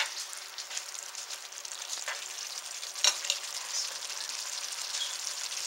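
Salisbury steak patties simmering in gravy in a pan give a soft, steady sizzle and bubbling hiss, with one sharp clack of a utensil midway, fairly quiet and with no talking.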